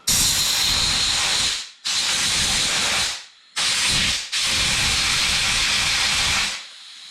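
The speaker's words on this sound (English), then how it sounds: "I'm just going to take some compressed air, and I'm just going to kind of blow a little bit on the inside and around the outside" Compressed air blasting from a nozzle inside and around a 4x4 tire, in four loud hissing bursts with short pauses between them, the last burst running longest before it tapers off.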